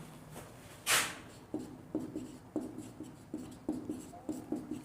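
Marker or chalk writing on a board during a B.Sc. mechanics lecture, heard as a series of short, close scratchy strokes in an irregular rhythm, with one louder rustle early on and no talking.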